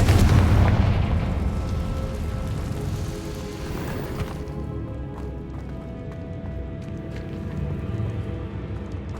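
A Confringo spell blast in the Hogwarts Legacy game sets off a loud, rumbling explosion inside a dungeon, with a heavy boom at the start that fades into a long, rolling debris rumble.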